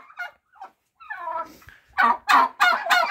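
Bourbon turkeys gobble loudly in a quick series of rattling calls on a small farm, preceded by a few softer clucks and chirps nearby.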